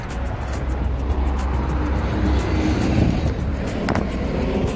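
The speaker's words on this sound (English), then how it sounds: "I have to actually speak up because of the cars." Road traffic rumbles steadily along a street, with cars passing close by in a continuous low wash and a brief sharper swell near the end, with no voices.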